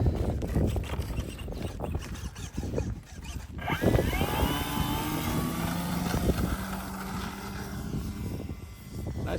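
An RC 3D foam airplane's electric motor spins up for takeoff in gusty wind. A rising whine with strong harmonics emerges over a rough wind rumble, then holds steady near the listener.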